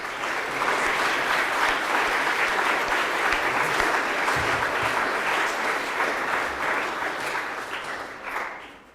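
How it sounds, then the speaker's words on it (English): An audience at a school spring sports assembly breaks into sustained applause, a steady dense wash of many hands clapping at full strength for several seconds before tapering off near the end, with no voices on top. "We'll give her a round of applause."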